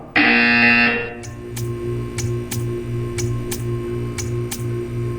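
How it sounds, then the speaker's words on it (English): A test-chamber buzzer from the video game Portal 2: a loud electronic tone blares for about a second, followed by a steady mechanical ticking and periodic sharp clicks repeating at regular intervals beneath a low hum. "You will hear a buzzer. When you hear the buzzer, stare at the art."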